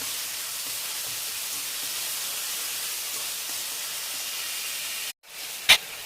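Chopped onion, tomato, ginger and garlic fry in a pan with a steady, soft sizzling hiss. Near the end there is a brief drop-out, then a short clatter.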